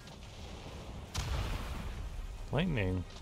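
Video-game thunder and lightning in Avatar F.O.P.: a sudden booming crack followed by a rolling rumble, loud and close, with a voice speaking over the end.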